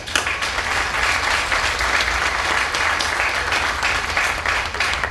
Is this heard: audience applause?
yes